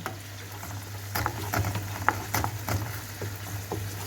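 Onions and pepper paste frying in oil while a wooden spoon stirs them, a soft constant sizzle with scattered taps and scrapes, close up and low in volume.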